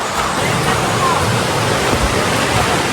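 Cold river water in Colombia rushing past, a loud, dense broadband roar that stays constant and close throughout.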